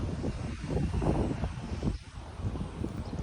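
A helicopter flies overhead, a steady, muffled engine drone with some wind rush that swells slightly and then eases over a few seconds.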